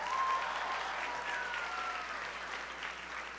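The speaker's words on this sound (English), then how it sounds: "Give yourselves a round of applause" Graduation audience applauding at a class of 2026 commencement ceremony, a steady dense wash of clapping from a large crowd, fairly distant and even throughout, with no talking over it.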